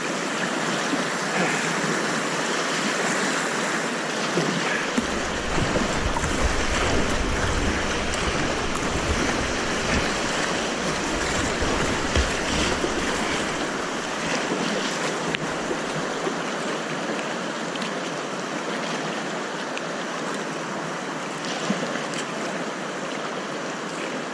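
Continuous rushing river water and small wave at Symonds Yat while kayaking, a broad steady wash with a deeper churning surge mid-way as the paddler rides onto the flow, no talk.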